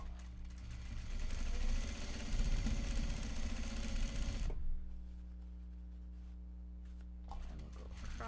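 A sewing machine stitches across a folded Japanese fabric bag with a steady, close mechanical whir for several seconds before stopping, leaving a low background hum and a brief resumed burst near the end.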